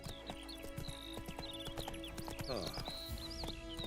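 Clip-clopping hooves of Roach, a horse in The Witcher 3 video game, a quick steady patter with a whinny midway, all set over a faint musical drone; a voice briefly exclaims.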